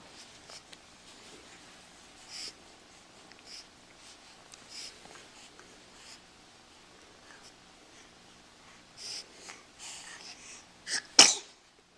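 A baby girl gives a quick close sneeze near the end, after stretches of faint breathy, snuffly little baby sounds over a quiet room background.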